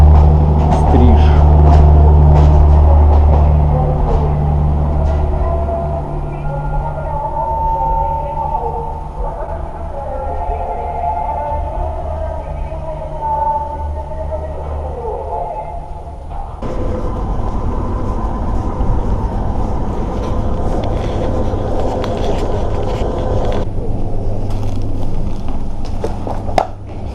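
A loud, steady rumble of a freight train rolling past nearby in the Moscow suburbs, clattering wheels and a shifting roar that carries on throughout, with a voice faintly under it.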